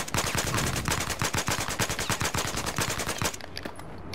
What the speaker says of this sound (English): That's pretty much me tapping as fast as possible